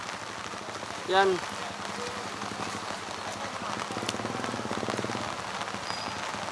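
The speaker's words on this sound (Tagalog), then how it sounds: "Napakalakas ng ulan." Heavy rain pouring down outdoors, a dense continuous hiss of drops striking surfaces close by, with a brief voice heard over the downpour.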